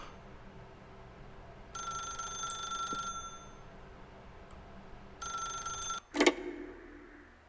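Old-style telephone bell ringing in the video game The Stanley Parable, two separate bursts of ringing with a pause between, followed by a sharp click as the receiver is lifted.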